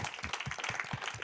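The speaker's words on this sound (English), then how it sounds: "Can you get a round of applause for the speakers?" Audience applause for the speakers at the close of an academic talk, heard as fairly faint, close-packed clapping with a quick irregular patter and no voices over it.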